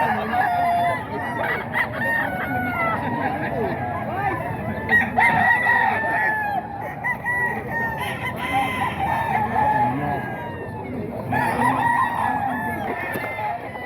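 Several roosters crow in turn, each crow long and rising, while hens cluck in between, all close by and fairly loud, with a little background chatter at a gamefowl farm.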